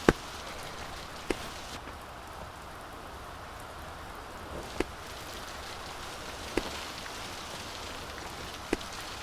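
Steady rain hisses in the video game Peaks of Yore, a constant even wash with a few sharp clicks scattered through it.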